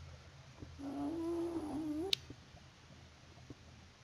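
A ghast from Minecraft moans once, a wavering, rising cry lasting about a second, heard fairly near over a low background hum and followed by a sharp click.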